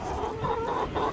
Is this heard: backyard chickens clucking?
yes